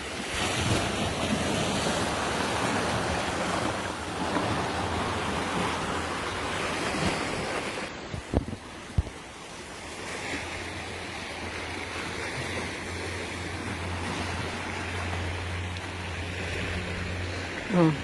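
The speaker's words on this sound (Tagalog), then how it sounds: "Grabe, ang alon. Siguro malakas yung alon." Strong ocean waves roll and crash at Jodogahama beach in Japan, a broad roaring surf mixed with gusty wind buffeting the microphone, loud at first then easing, with faint voices in the background.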